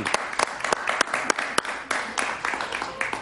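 Studio audience claps for a guest named David during a televised interview, a lively burst of applause with sharp individual hand slaps standing out over the crowd.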